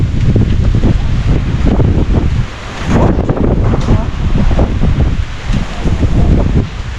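Strong wind roars and buffets the microphone in loud, continuous gusts, with a brief lull near the middle before it surges again.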